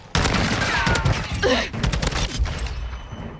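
Rapid bursts of gunfire from a shooter video game as practice bots are fired on, several quick volleys with short pauses between them, loud and close throughout.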